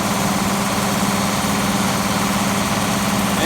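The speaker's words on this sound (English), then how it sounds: "Alright, so we're grinding feed." An IH 1486 tractor drives a New Holland 354 grinder chewing ear corn into cattle feed, making a loud, steady engine drone with continuous grinding rumble, close by and uninterrupted.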